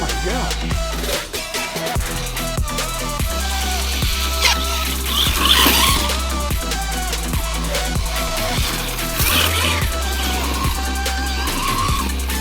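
A 1/14-scale MJX Hyper Go H14BM RC truck tears across short, winter-dry mowed grass, its electric motor whining loudly in repeated bursts with rising and falling revs and no talk.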